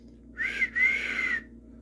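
A clear whistled tone from the film, sliding up then holding steady across two breaths with a brief gap, close and alone without any talking.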